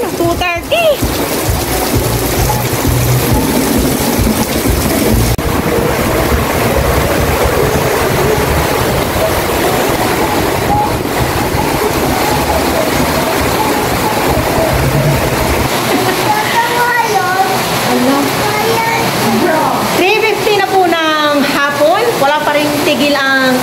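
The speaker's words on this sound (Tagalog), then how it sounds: "And within 1 minute, umulan siya ng ganito. Napakalakas na may hangin." Heavy afternoon downpour with strong wind on All Saints' Day, a loud, steady roar of rain that fills the scene throughout, with voices talking over it toward the end.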